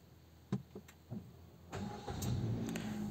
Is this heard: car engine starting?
yes